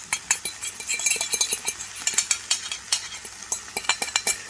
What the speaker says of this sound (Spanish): Vertemos el huevo batido.